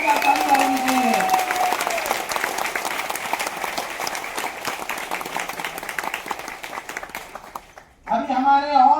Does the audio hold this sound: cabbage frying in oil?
no